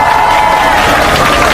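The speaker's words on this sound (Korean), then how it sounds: "다시 한번 큰 박수 주시면 더 힘이 될 것 같습니다" Crowd applause at an outdoor candlelight protest rally, dense steady clapping from many people, loud and close, filling the short moment without pause.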